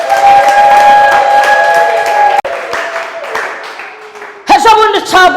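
Congregation in a church service breaking into applause and high ululating cries, loud and close, with clapping and trilling voices swelling near the end while a speaker talks earlier.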